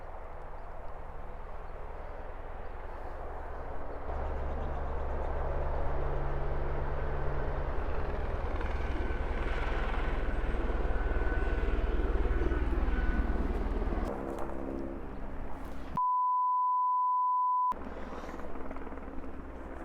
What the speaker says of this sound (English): it's not only a helicopter, they're hovering over there